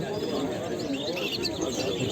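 Dense bustle at an outdoor poultry and songbird market in Edirnekapı, Istanbul, with overlapping chatter and birds, including canaries and pigeons, cooing and chirping throughout, a busy crowded mix with no pauses.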